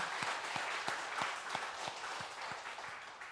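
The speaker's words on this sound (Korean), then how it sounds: "이 모든 영광을 하나님 앞에 한번 영광의 박수 드리겠습니다" A church congregation gives applause in praise: a soft, distant wash of many hands clapping, with a faint steady rhythmic clap pulsing through it.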